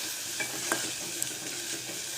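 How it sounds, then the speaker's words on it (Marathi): Mutton sizzling in hot oil, a continuous crackling hiss with a few sharp pops and a light scrape of stirring. "चांगला तेल सुटून तर चांगला फ्राय करून घ्यायचा भाजून मस्त"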